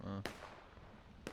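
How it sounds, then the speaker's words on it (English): Two sharp, distant pops ring out about a second apart, gunfire in the video game War of Rights, with faint noise between them. "Sounds like fireworks going off."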